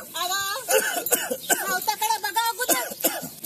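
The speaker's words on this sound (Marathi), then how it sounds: "खोकलून खोकलून जीव चालला." A person coughs repeatedly in short harsh bursts, mixed with throat clearing and strained, speech-like vocal sounds, all close and loud.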